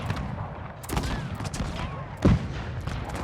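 Musket volleys crackle through a Total War battle, a ragged fusillade of gunshots with one loud, close blast near the end, set against continuous battlefield din.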